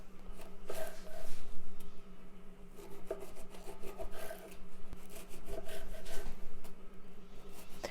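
A knife saws through a baked cranberry pistachio biscotti log, making close, rough, rhythmic rasping strokes in repeated bursts with brief pauses between cuts.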